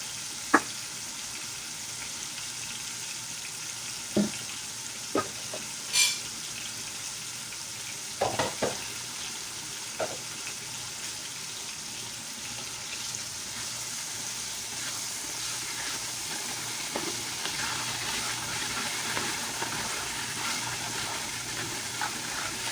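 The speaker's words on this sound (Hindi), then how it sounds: "थोड़े से इसको भुनेंगे, ज़रा टमाटर सॉफ्ट हो जाए" Beef liver masala with tomatoes sizzling in a pan, a soft, steady fry hiss broken by scattered clicks and scrapes of stirring.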